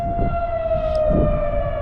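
A siren wails steadily at a distance near the Delaware River, its pitch holding nearly level with a slight downward drift, over low rumbling background noise.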